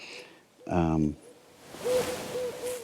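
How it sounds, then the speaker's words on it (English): An owl hoots in the distance near a backpacking hammock campsite in the Sipsey Wilderness, giving a faint run of short, evenly spaced hoots after a brief burst of voice. "There's an owl in the distance there."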